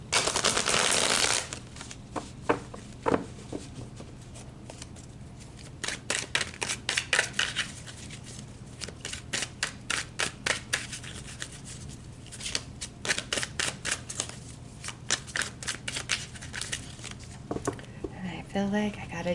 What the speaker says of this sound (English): I feel like I gotta do another shuffle, get these cards really mixed up